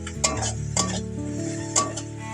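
Fish curry simmers in a pan as a spoon stirs in Kashmiri chili and turmeric water, with three distinct clinks of metal against the pot over a low bubbling sizzle.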